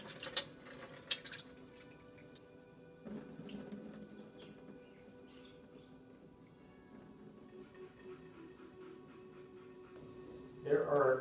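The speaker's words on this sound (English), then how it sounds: "let that water drain into the pan." Water drains from a removed filter housing into a pan, a faint, steady trickle with a few drips and occasional clinks, rising briefly louder near the end.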